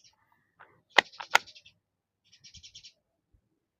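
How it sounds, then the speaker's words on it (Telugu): A few short bursts of bird chirps and trills, close and fairly clear, separated by quiet gaps. "అక్కడ కూడా ఎట్లా అవుతున్నాయో పిట్టలు"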